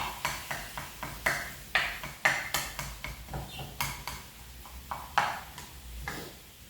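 Minced meat being chopped apart in a pan for lasagne, with a steady run of sharp, close utensil taps and scrapes against the pan, some louder knocks among them, and no talking.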